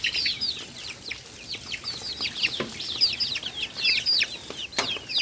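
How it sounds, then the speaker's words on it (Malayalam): Around twenty native and black chickens cluck in a coop, a dense run of short, overlapping clucks and chirps that continues throughout with occasional soft rustling. "22 കോഴികളുണ്ട്. നാടൻ കോഴി, കരിങ്കോഴി, അങ്ങനത്തെ എല്ലാം കോഴികളാണ് ഇതിൻ്റെ അകത്തുള്ളത്."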